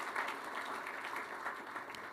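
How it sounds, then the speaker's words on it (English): Soft, distant round of applause from an audience at a university athletics press conference, steady diffuse clapping throughout with no voices. "Give them all a round of applause for joining their father in this partnership"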